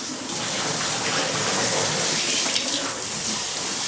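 Shower water runs in a steady, close, full rush of spray spattering onto surfaces, continuous for the whole stretch with no voices.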